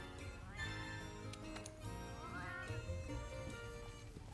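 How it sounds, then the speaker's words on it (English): A cat meows in Monster Hunter: Iceborne, a short game-character cry set over steady background music with no talking. "Check out this cat. You got this cat's cooking skills."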